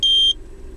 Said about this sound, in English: this warning buzzer will beep, and it will automatically switch back to petrol